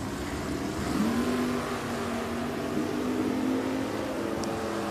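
Drag racing at Richmond Dragway, with a 1967 Buick and a 2003 Chevrolet S10 at the line: a sustained engine drone that climbs in pitch and holds at a moderate distance, with no voices.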